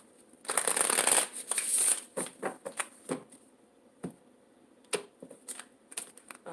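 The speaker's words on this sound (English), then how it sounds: "Just want to get another shuffle here." A deck of cards is riffled in a loud burst, then cards are tapped, squared and handled with a series of crisp clicks and flutters.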